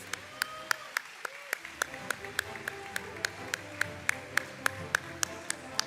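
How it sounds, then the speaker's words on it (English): Sparse, regular claps from a small part of the audience at an awards ceremony for the winners, evenly spaced sharp hits about every third of a second over a low room murmur. "let's give another big round of applause"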